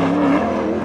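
A sprint race car roars past close by in a brief, loud engine drone with a sustained high-pitched tone, lasting under a second.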